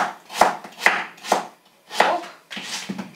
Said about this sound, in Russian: Так, вырезаю последнюю картошку.